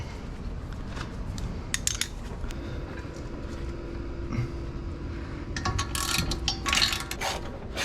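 A breaker bar works loose tight brake caliper bolts on a car, giving scattered metallic clicks and ratcheting clanks up close, growing busier and louder toward the end.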